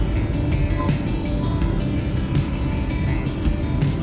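Steady engine and tyre rumble from inside a car overtaking another vehicle on a road with dashed lane markings during a Lebaran homecoming drive from Jakarta to Tasikmalaya, an even, unbroken drone with no talk.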